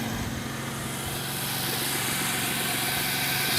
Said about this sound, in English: Sounds like it's idling nicely.